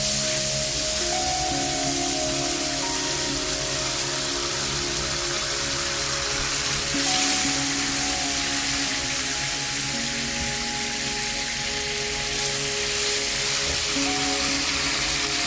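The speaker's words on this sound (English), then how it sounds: "now I'm adding more butter" Butter sizzling in a pan before rice and mixed vegetables are cooked in it, a constant dense crackling hiss that stays loud and close throughout, with no talk.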